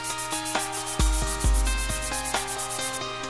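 Hand sanding of a carbon fiber mould plug with 400 grit sandpaper, a close, steady scratchy rasp of repeated back-and-forth strokes with a few louder knocks, no talking.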